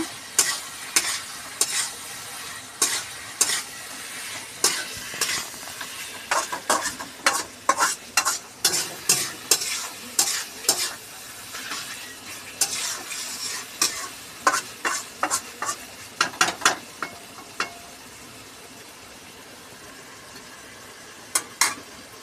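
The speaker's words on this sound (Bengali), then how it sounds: "চিকেনটা ভালো করে মশলার সাথে নেড়ে নিচ্ছে" Chicken and spices fry in a pan while a utensil stirs and scrapes in repeated sharp strokes over a constant sizzle, close up, with no voices.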